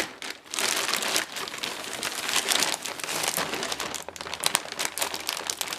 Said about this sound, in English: Cut this outer bag.